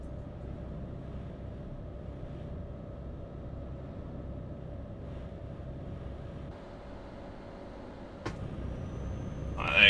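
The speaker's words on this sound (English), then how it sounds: "if I rev the engine now. Still not coming in that loud." A lorry engine drones steadily from inside the cab while the truck creeps along slowly without much acceleration, a low, even rumble with a brief sharp knock near the end and a rising swell at the close.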